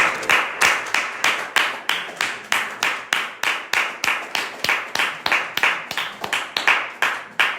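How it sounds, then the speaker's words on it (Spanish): A church congregation clapping together for the Lord during an Easter service, firm rhythmic claps in a steady beat, about three per second, moderately loud and continuing without speech. "Le damos un aplauso al Señor."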